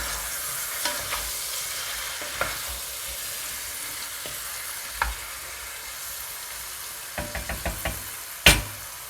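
Seasoned ground beef browns in a pan under a low sizzle, broken by scattered knocks and scrapes of a utensil against the pan, with a cluster of taps and a sharp clatter near the end.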